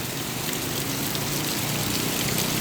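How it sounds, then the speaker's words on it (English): Heavy rain pours steadily in the Philippines, a dense, unbroken hiss of drops on surfaces with no pauses and no voices. "this is the rain for last almost 1 week"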